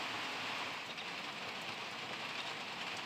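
Steady rain falls over a drought-stressed garden, a dense, even hiss of drops on surfaces that continues without break at low level.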